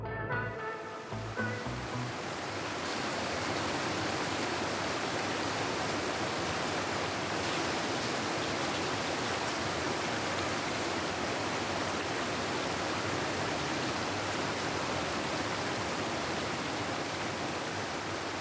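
Water flowing steadily down Whyming Brook, a broad, continuous rushing wash close by that holds constant for the whole stretch, with a brief uneven start before settling into the unbroken flow.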